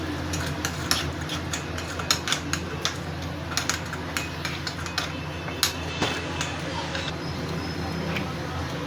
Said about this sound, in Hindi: अब इन सारे मसालों को हमने कर देना है मिक्स